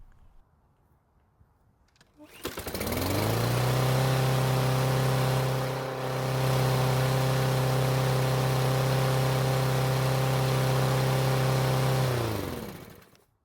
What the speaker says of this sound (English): So the engine started, but not without some issues.